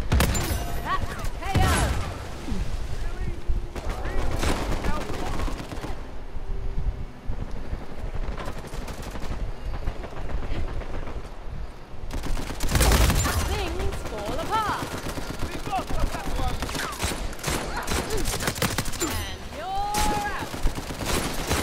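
Sniper gunfire in the video game Uncharted 4 cracks amid dense, continuous battle noise of shots and blasts, with voices talking over the action.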